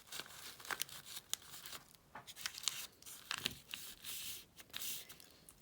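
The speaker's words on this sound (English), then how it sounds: "and then fold it in half again." A sheet of paper being folded in half, giving soft, close crinkling and rustling bursts with short pauses between them.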